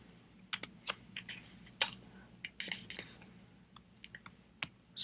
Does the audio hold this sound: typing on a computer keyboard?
yes